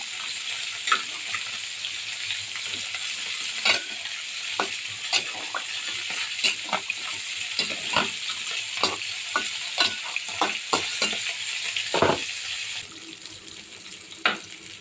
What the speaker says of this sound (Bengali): মাছ তুলে নিয়ে কুমড়ো ভাজি দিয়ে দিয়েছি। সবজিটা এখন বাগার দিয়ে নেব।